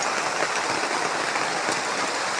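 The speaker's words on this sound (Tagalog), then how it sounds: "inabot kami ng ulan" Heavy rain pours down in a forest as a dense, even hiss of drops that stays constant and close for a couple of seconds, with no voices.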